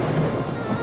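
Deep rolling thunder rumbles through a heavy downpour, a steady low roar of rain with a broad wash of noise persisting across the brief moment, no voices present.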